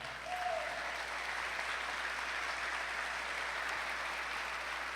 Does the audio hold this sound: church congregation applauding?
yes